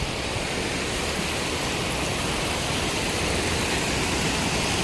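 Clear river water rushes steadily over rocky ground in a broad, unbroken roar, loud and close, like surf, with no pauses and no voices.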